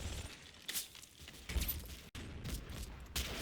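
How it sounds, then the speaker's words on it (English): An MG-34 machine gun fires in the Combat Mission Fortress Italy video game, with a few short, distant bursts of rattling shots that come and go over low battlefield noise. "Despite suppressing fire, the MG-34 on the right is still putting up a fight."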